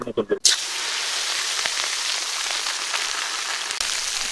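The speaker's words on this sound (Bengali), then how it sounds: "এখন আমাদের ভেন্ডি ভাজির পেঁয়াজ রসুন পেঁয়াজ কাঁচামরিচ সবকিছু কোটা শেষ, এখন আমরা তেলে দিয়ে দিচ্ছি।" Chopped okra with onion, garlic and green chili hitting hot oil in a village kitchen; a sudden burst of sizzling that settles into a steady, crackling fry.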